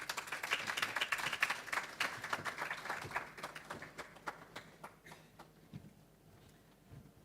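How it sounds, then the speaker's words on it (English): At a health research symposium, an audience gives a dense round of clapping that welcomes a speaker, then thins into scattered individual claps and fades out. "With a round of applause, can we kindly welcome her?"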